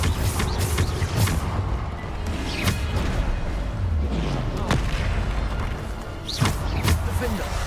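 Bombarda explosion spells in the Hogwarts Legacy video game make several heavy booms and crashes over a dense rumbling bed, with a voice shouting in between.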